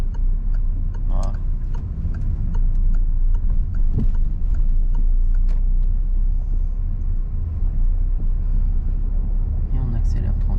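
A car drives gently during a driving lesson, a low steady engine rumble with soft road noise and occasional ticks, while an instructor talks over it.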